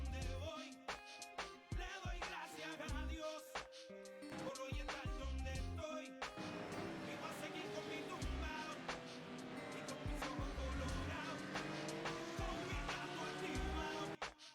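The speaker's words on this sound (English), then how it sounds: "Let's see the pass." Audi GT3 race car at Mugello in a racing sim, engine droning loud and continuous with a rising pitch as it accelerates, a sharp shift partway through, and other cars nearby.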